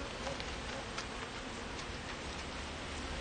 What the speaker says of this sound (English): there are a ton of bees on here